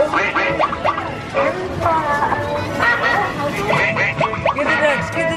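Ducks quack repeatedly from a duck-squirting arcade game at Chuck E. Cheese, a loud string of electronic quacks over busy crowd babble and nearby chatter.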